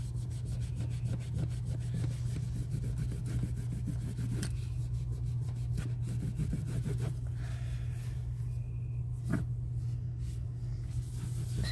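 A rubbing cloth wiping chalk paint and antique glaze off a resin piece cast in a mold: a continuous close scrubbing hiss with repeated back-and-forth strokes and a few sharper scrapes, steady and without speech.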